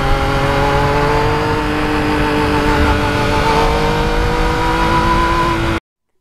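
A Yamaha MT-09 motorcycle engine drones steadily at a moderate, smooth note, holding an even pitch with a slight rise near the end before cutting off abruptly.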